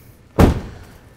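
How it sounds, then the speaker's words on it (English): A van door is shut with a single solid thud during a van lock installation, one loud close followed by a short fading rumble. "So open this door and close this one."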